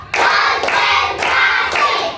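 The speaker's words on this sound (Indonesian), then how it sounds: "Tepuk satu. Tepuk dua. Tepuk tiga. Tepuk empat." A group of children clap in unison during a classroom counting chant, sharp loud bursts of claps in a few rhythmic clusters close by, with no talking over them.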